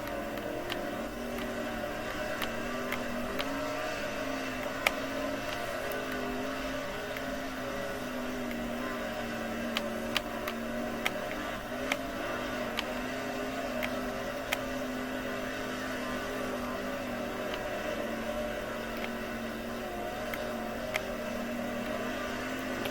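Sprint race cars from the World of Outlaws video game, engines droning steadily at racing pace throughout, a continuous loud whining roar with a few faint clicks and knocks on top and no talk.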